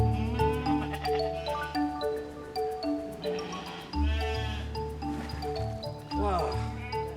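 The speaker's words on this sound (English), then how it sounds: "Sheep seems happy." Sheep on a Tudor monastery farm bleat repeatedly, near and fairly loud, mixed with other farmyard noise and a faint background hum.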